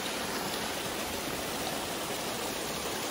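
Water pours steadily into a pool being filled, a constant broadband rushing hiss with no breaks and no voices.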